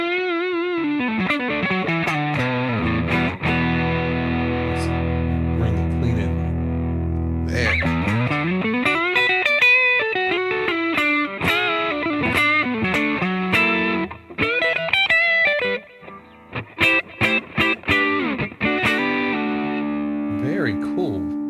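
Electric guitar driven through an Ibanez Tubescreamer into a Spark amp with the gain cranked, playing sustained distorted chords and bends, then choppy muted rhythm hits near the end, loud and close.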